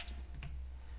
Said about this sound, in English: I took the sound of the shutter and the automatic film winder from the Contax G1.